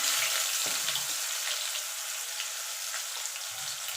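Chopped onion fries in oil with a soft, faint, continuous hiss, and a few low thumps come and go.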